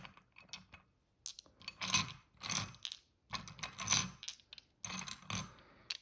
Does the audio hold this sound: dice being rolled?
yes